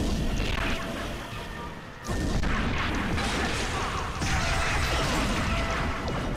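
Bomb blasts and crashing impacts in the action game Viewtiful Joe, a dense, loud run of explosive booms and smashes with a short dip near the two-second mark before the noise surges again.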